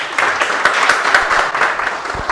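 A short burst of applause from a small crowd at a renewable energy forum, dense clapping that stays fairly even throughout, heard up close and fairly loud.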